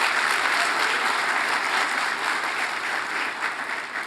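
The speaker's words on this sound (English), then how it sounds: "College of DuPage president, I think applause is appropriate." A full audience applauds the college president at a high school equivalency commencement ceremony, a thick, constant wash of clapping held at steady volume throughout.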